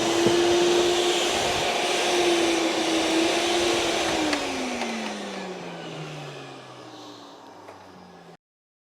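A Hoover Celebrity QS canister vacuum cleaner runs loud and close with a steady whining motor tone that drops in pitch midway as the suction note shifts, then cuts off abruptly near the end.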